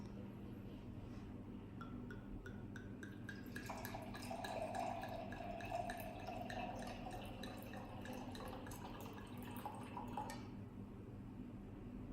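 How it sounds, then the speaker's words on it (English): Wine is poured into a glass, a steady close-up trickle with gurgling and drips that runs several seconds before stopping. "And we pour to the glass."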